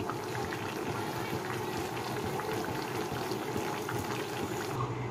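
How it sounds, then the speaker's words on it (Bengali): A rohu fish curry with raw banana, potato and spices simmers at a steady boil, producing a continuous dense bubbling and spattering that stays even and close throughout, with no voices. "মশলা দেওয়ার পর দেখো ফুটে উঠলে নামানো হবে"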